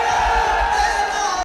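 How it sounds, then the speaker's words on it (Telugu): A large rally crowd in a ground roars and cheers for a pledge by Pakistan's prime minister Shehbaz Sharif, a loud, sustained mass of voices that cuts off abruptly at the end. "గ్రౌండ్లో చప్పట్లు మోగాయి"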